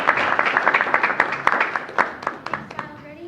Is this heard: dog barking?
no